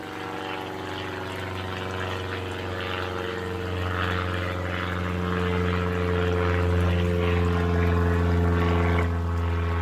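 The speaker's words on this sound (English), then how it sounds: "Got some aeroplane going over somewhere" A propeller aeroplane with the letters L and A on each wing passes overhead beside a clear garden pond, a steady broad drone that swells slightly in the middle and holds near, with no talking.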